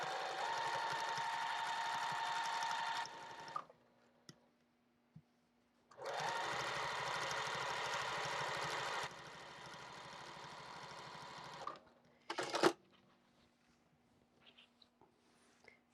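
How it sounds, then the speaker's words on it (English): A sewing machine stitches the lining and exterior of a zipper pouch together along a quarter-inch seam. It whirs in two sustained runs of a few seconds each, followed by quieter clicks and handling noises. "you're going to lay them together, right sides together, and you're going to simply sew along both ends"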